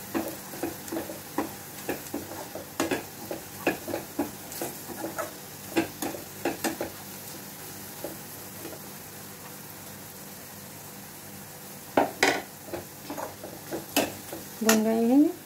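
Masala spices sautéing in a pan for kadhi, a soft steady sizzle under repeated scraping and clinking stirs of a spoon against the pan, fairly close and quiet.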